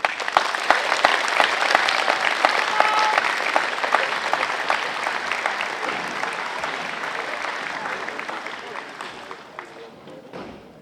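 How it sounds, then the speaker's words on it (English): Audience applause for graduates at a school graduation ceremony, a dense crowd of hands clapping loudly and steadily before slowly thinning out and fading. "big round of applause"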